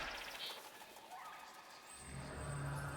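Cooing of a bird in the video game Soulframe, a soft, steady coo that stands out over a low ambient game background, fairly close and continuous for a few seconds.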